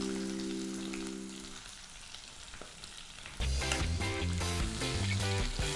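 Onions frying in oil with cardamom and curry leaves for an Andhra-style mutton keema fry, a steady close sizzle under a low hum at first, then partly covered when loud music comes in.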